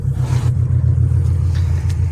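Chevrolet Lanos engine catching and running loud and close, a steady low rumble throughout with no talk.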